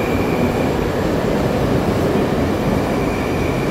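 Moscow metro train 81-765 braking, a dense loud rumbling roar with a faint high whine, steady and close for the whole stretch.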